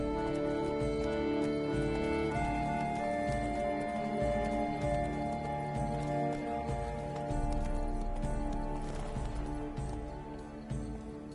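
Horse hooves clip-clop at a steady gallop through a loud, dense, busy soundscape for most of the span, easing off toward the end.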